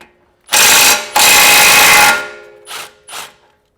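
Ratchet loosening 22mm suspension bolts on a Honda Element, heard as two long, loud, close bursts of rapid clicking followed by two short, quieter bursts, with no talking.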